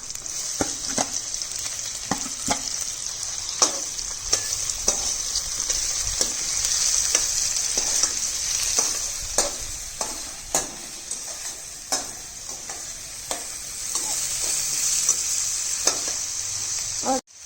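Garlic and onions fry in a pan with a loud, steady hiss, punctuated by regular clicks and taps of a spoon stirring against the metal, close up and with no speech.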